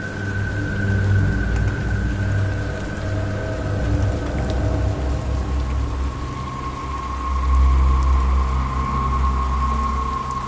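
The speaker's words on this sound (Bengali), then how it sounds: "দেখতেই তো পাচ্ছ বৃষ্টি একদম থামছেই না, তার সাথে বজ্রপাত হচ্ছে" Heavy rain pours down steadily with a low rumble of thunder beneath it, loud and continuous throughout, over a faint sustained tonal drone.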